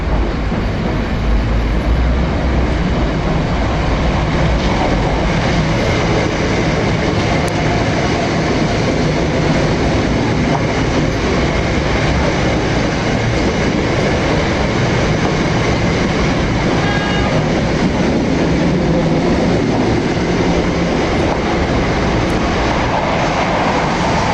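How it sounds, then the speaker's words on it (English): A train rolls steadily through a station platform, a loud continuous rumble with faint clickety-clack of wheels on rails, close by and without talk. "The train now approaches platform."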